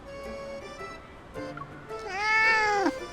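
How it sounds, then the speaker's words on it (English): A cat dressed in a little butler uniform meows in the Love and Deepspace video game, one long rising and falling meow, loud and close, following a few softer tonal game sounds. "A cat's meow by his feet catches our attention."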